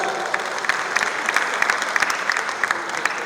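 Steady round of applause from an audience at an awards ceremony, with dense overlapping claps at a moderate, even level throughout and no speech over it.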